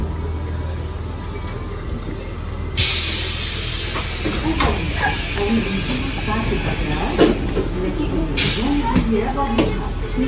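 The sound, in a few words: double-decker train running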